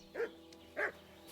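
Two short dog barks, medium-distant and moderately loud, a half second apart, from a dog in the medieval role-playing game Kingdom Come: Deliverance II.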